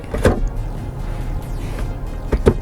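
Centre console storage lid in a Kia Cerato Koup cabin being closed and slid shut, heard as two close, sharp plastic clunks about two seconds apart over a low interior hum.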